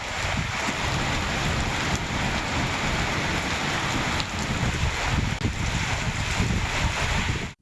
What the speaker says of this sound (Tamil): கனமழை பெய்தது.